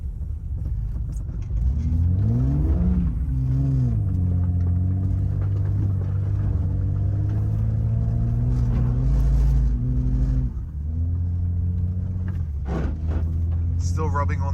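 A lifted Jeep WJ on 37-inch tires spins around on ice, its engine revving up and holding a steady, loud drone before easing off and picking up again.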